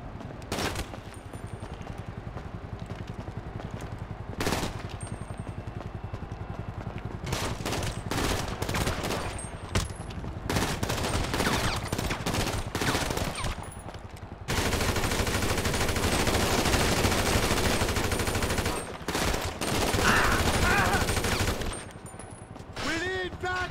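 Video game gunfire in GTA 5: loud bursts of automatic and rapid shots crackle and clatter in irregular volleys, with shouted talk between them.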